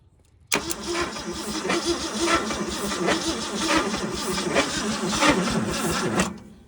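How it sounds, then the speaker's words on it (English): Engine of a 1971 Ford, sitting unused for 27 years and now fitted with its spark plugs, cranks steadily under compression for about six seconds, a loud continuous churning with a rhythmic pulse, close up and without talk. "I should put the spark plugs back in it and see how it sounds cranking it with some compression"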